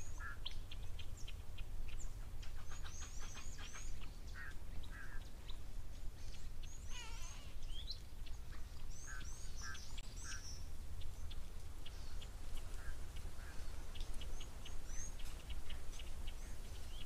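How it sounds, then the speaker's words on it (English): Grey go-away birds give nasal, duck-like calls in short bursts at a wild waterhole, set among chirps and squawks from other birds over a steady low outdoor rumble. "The grey go-away bird also calling, in Afrikaans, the kwaefoel,"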